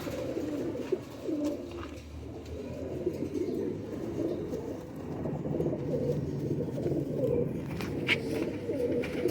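Patti waley Lakhy pigeons coo steadily in a low, rolling drone, several birds close together, with occasional faint chirps and rustles.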